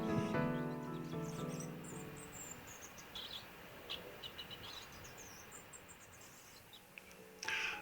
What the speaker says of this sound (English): She is beginning to learn her song and often serenades me while perched on the computer.